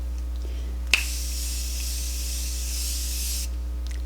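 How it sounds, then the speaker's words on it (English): Tarte Maracujá Miracle Mist setting spray gives a sharp pump click, then one sustained airy hiss of mist that lasts roughly two and a half seconds over a faint steady mains hum, with no talking. "I'm going to use the Tarte Maracujá Miracle Mist."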